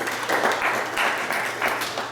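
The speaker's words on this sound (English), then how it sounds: "Everyone applauds and take their seats" People seated around a dinner table clap together in a short, close round of applause, with the claps coming in uneven bursts.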